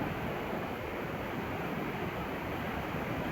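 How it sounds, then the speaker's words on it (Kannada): Steady, dense rush of falling water from a waterfall beside the Bhimalingeshwara temple in Karnataka, continuous and fairly loud with no voices over it. "ಇದು ನೋಡಿ ಫಾಲ್ಸ್ ಹೋಗ್ತಾ ಇರೋ ಸ್ಪೀಡ್"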